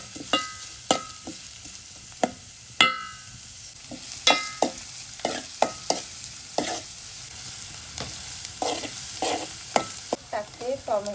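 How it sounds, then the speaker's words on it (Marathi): Finely chopped onion fries in a tempering for a spicy Konkan crab curry, with a soft continuous sizzle broken by repeated sharp clanks and scrapes of a spoon stirring the pan, close and without talk. "बारीक चिरलेला कांदा टाकूया फोडणीसाठी"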